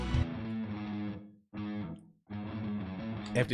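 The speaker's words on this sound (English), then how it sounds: "tend to have like this more round distortion. A very treated guitar" A heavily processed electric guitar with a rounded, thick distortion plays sustained chords in three blocks separated by short silences, loud and alone.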